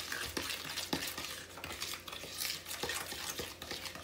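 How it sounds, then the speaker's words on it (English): A spoon stirs banana bread batter in a bowl, giving soft repeated scraping and occasional light clinks against the bowl, close and fairly quiet, with no talking. "We're just gonna kind of mix this a little bit."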